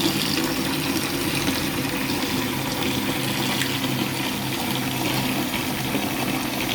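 Hot water runs steadily into a basket holding laundry powder for soaking greasy rangehood parts, a continuous rushing, splashing fill without pauses or voices.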